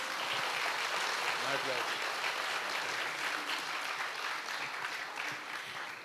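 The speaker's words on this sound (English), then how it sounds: "Please give him a huge round of applause." A large crowd at a literature festival book launch applauds loudly and continuously, dense clapping filling the whole stretch and easing slightly toward the end.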